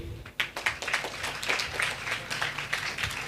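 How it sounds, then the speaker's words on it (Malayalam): An audience at a stage show by a mentalist clapping on request: a brief burst of scattered crowd applause, many hands clapping at once at moderate loudness, with no voices over it. "ഒന്ന് ക്ലാപ്പ് ചെയ്യോ?"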